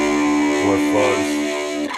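A fuzz-distorted electric guitar through a lunchbox amp rings out thick and saturated, a couple of bent, sustained notes with echo, loud and close.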